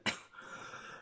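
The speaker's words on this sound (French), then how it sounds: "Comme vous voyez, je tousse encore beaucoup." A single short, harsh cough close by, followed by a faint breathy rasp that trails off.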